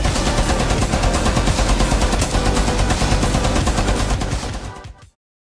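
Rapid SMG fire in the Rainbow Six Siege video game, a loud sustained burst of quick shots running for about five seconds before cutting off abruptly into silence.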